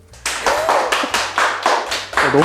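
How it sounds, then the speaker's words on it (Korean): A small group claps at a balloon-making class, about seven or eight distinct, close bursts of applause in a quick, uneven rhythm, with a few voices mixed in. "박수."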